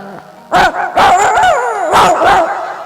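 A person imitates an angry dog, making loud, close, snarling barks in rapid bursts with growly yelps between them.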